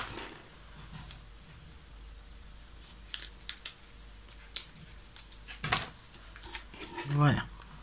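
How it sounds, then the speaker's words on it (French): Scissors snip off the excess strip of card on a handmade sliding Christmas card, giving a few sharp, close clips and rustles over a quiet background. "Et on peut couper le surplus."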